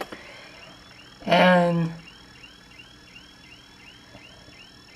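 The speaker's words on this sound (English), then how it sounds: "that's how my car alarm sounds like, but that's not my car" A car alarm going off outside, a repeating electronic warbling siren sounding at a distance, briefly covered by a louder close voice near the start.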